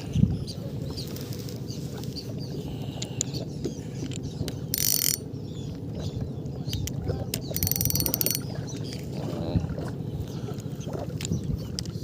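A fishing rod reel is tested on a boat, a fast mechanical ratcheting click running under a low engine or water rumble, with two brief louder bursts of line or reel noise.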